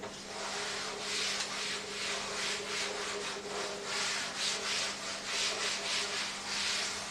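Rubbing writing off a classroom board with an eraser, a steady scratchy swishing in repeated strokes that runs continuously and fairly loud, with no talking over it.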